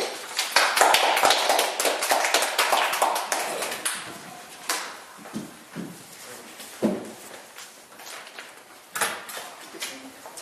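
A small audience of about ten people at an education-policy talk gives a burst of quick, close hand claps that thins into scattered taps and a few later claps.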